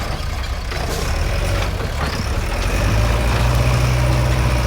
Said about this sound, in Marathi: हा ट्रॅक्टर घेऊन पळतोय हा